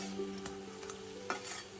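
Cabbage pakora fries in oil: a soft, low sizzle with a few quick stirring scrapes, brief and fairly faint.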